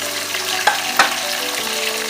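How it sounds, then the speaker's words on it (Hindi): Tomatoes added to golden onions frying in a pan for a tinda chicken curry give a loud, steady sizzle with a couple of sharp bursts as the pieces hit the hot oil. "इस स्टेज पे अब मैं इसमें ऐड करने लगी हूँ टमाटर।"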